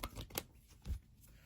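Karma tarot cards being shuffled by hand, a few quick soft riffling bursts and papery taps, quiet and close, with no speech.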